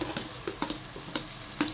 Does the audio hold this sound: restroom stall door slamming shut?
no